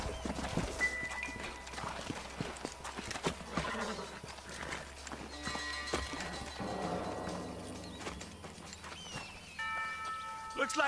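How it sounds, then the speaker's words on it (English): Horse hooves clip-clop steadily in the Red Dead Redemption video game, blended with background music and faint voices. "Let's hold up a minute and find a spot for our horses."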